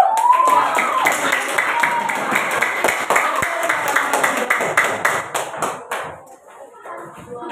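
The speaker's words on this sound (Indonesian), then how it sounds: "sekarang kita berikan tepuk tangan buat kelompok 2" A classroom of students claps for a group at the end of their presentation during a teaching practice session, dense steady clapping with some voices mixed in that fades near the end.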